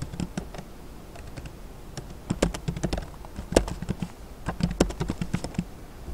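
Keys clatter on a computer keyboard in a quiet room, quick irregular taps coming in bursts with short pauses, fairly close and moderately soft, with no voices.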